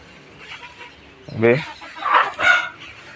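Egg-laying hens clucking in a backyard coop, a few short close clucks and calls rising in quick bursts over a quiet background.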